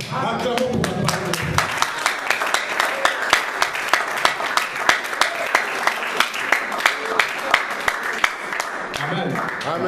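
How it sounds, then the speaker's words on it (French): A church congregation applauds together in steady, rhythmic clapping that fills the room, with voices mixed into the crowd. "Acclamons pour la parole."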